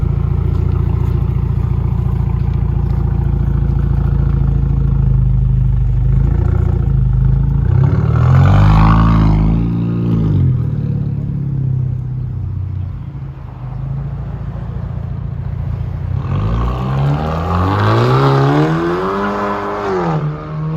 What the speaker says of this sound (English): Sounds pretty good. That's two rear muffler deletes,